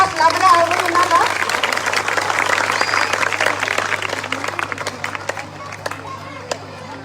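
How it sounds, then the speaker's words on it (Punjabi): An audience at a village Teeyan festival event claps in a sustained round of applause, loud and dense at first and thinning toward the end, with a voice speaking over it. "ਸਾਰੇ ਜਣੇ ਤਾੜੀਆਂ ਨਾਲ ਹੌਸਲਾ ਵਧਾਓ ਵੀ ਉਹਨਾਂ ਦਾ"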